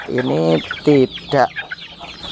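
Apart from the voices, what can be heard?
chickens in a box, about two and a half months old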